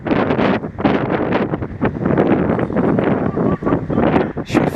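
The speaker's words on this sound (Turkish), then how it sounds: "Rüzgar çok şiddetli sayın seyirciler bugün" Strong wind buffets the microphone at an amateur football match in İzmir, a loud, continuous low rumbling roar with gusty surges throughout.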